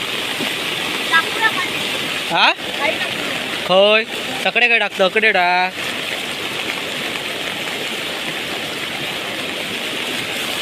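A flooded river rushes in heavy monsoon rain in Sindhudurg district, Konkan, a loud, steady roar of water that never lets up, with people talking briefly over it partway through.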